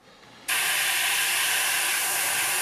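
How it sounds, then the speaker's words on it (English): After a brief quiet moment, an airbrush bursts into a steady, loud hiss, spraying paint on a 1/72-scale model, continuing unbroken to the end. "now for some airbrush work"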